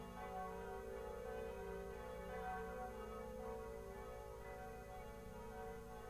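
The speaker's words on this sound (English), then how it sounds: "the bells are ringing in your honor today" Church bells ringing in the Hunchback of Notre Dame PlayStation game, a steady sustained peal with rich ringing overtones, faint and continuous without speech.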